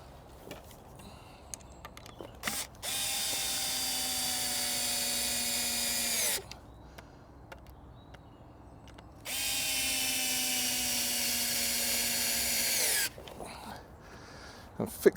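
A power drill drives screws into pallet wood while building a chair, two long steady whirring runs of about three to four seconds each, the pitch dropping as each screw seats, with brief clicks and handling noise between.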